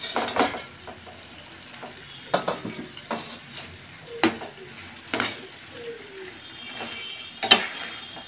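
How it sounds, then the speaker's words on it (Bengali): Eggs stirred into a bubbling spice masala for a boneless meat kosha, a spatula scraping and clinking in the pan in irregular strokes over a low sizzle, close and moderately loud. "মশলাটার সঙ্গে মাখিয়ে নেব।"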